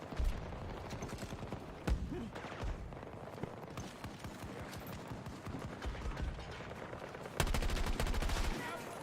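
Gunfire in Battlefield 2042, a sniper among other shooters, a steady stream of fairly loud shots with a heavier burst near the end, and occasional speech mixed in.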